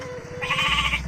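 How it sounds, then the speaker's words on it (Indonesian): Goats bleating at a village farm below a mountain slope, a single nearby wavering bleat rising over low background noise. "Nah ini kambing-kambingnya guys"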